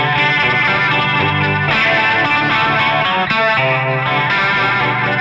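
Stratocaster electric guitar played through a Pigtronix Rototron analog Leslie rotary speaker simulator pedal, loud and continuous chords with a swirling, warbling rotating-speaker shimmer, played alone with no talking.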